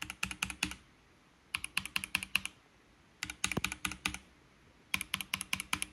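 Mechanical gaming keyboard typed on in quick bursts of crisp clicky keystrokes separated by short pauses, close and alone.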